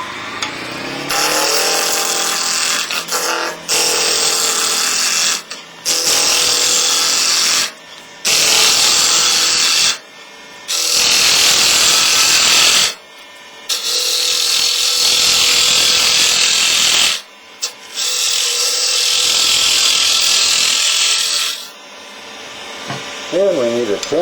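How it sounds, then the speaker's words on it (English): Wood spinning on a lathe cut with a bowl gouge while roughing a blank round, loud rushing scraping bursts of several seconds each separated by short pauses, close and dominant. "we're going to round this out. Again, I'll use my bowl gouge"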